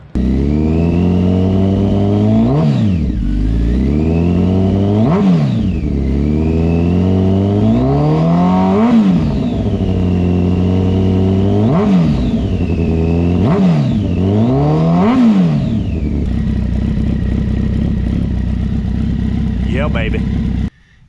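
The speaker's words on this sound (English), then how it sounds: "Good opportunity to hear the sound of the Brock's single side shorty." A 2007 Campagna T-Rex 1400R engine revs repeatedly through a Brock's single side shorty exhaust, loud and aggressive close up, rising and falling in a string of sharp blips before settling to a rough, steady idle.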